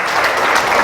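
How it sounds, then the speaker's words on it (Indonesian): A church congregation claps together in steady, dense applause, loud and close, filling the whole moment without a break or a voice standing out. "ketika saudara tepuk tangan, jangan tepuk tangan untuk saya, tapi tepuk tangan untuk Tuhan kita Yesus Kristus"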